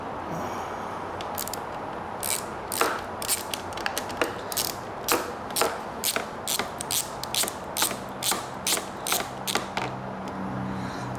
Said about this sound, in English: Go ahead and take our knot off now, I believe.